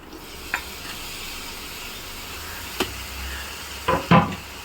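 Ginger and garlic sizzle softly in a pan as chopped tomatoes go in, with a few sharp clatters and a louder burst of frying near the end.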